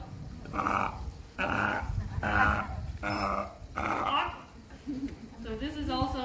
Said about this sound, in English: growl.